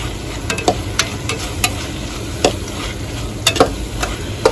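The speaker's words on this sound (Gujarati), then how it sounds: "અને હવે એને હલાવી નાખીએ ઘડીક વાર" Spiced tanjariya greens being stirred in a pan, a steady low sizzle with scattered sharp scraping and clinking strikes of the spoon against the pan, close up and with no talking.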